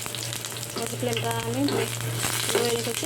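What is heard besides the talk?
whole cumin, dried chili and bay leaves frying in oil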